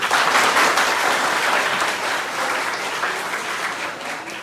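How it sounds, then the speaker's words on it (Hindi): An audience at a live talk claps for themselves in a sustained, dense burst of applause that stays loud throughout and eases slightly toward the end, with no voices over it. "ताली बजाओ अपने लिए"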